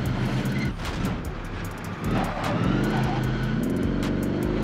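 A car engine drones steadily and loud while driving in the video game Warzone, joined by sharp intermittent cracks that sound like gunfire.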